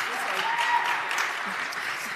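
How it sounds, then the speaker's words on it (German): An audience at a Eurovision Song Contest national selection press conference claps in a brief burst of scattered applause of moderate loudness, with some voices mixed in. "Sie können gerne klatschen"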